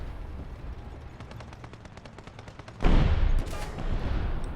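Rapid burst of automatic aircraft cannon fire in a video game, a quick train of evenly spaced shots, followed by a louder roaring blast and rumble.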